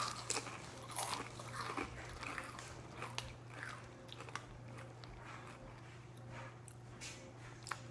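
Spicy Doritos chips are crunched and chewed close to the mic, with sharp, irregular bites and crackles over a quiet background hum.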